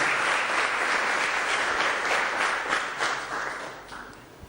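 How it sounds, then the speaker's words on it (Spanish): A youth congress audience at a church workshop applauds strongly to welcome the first speaker, sustained loud clapping from a crowd that gradually tapers off toward the end. "que le damos un fuerte aplauso para recibirlo a Javi Illies"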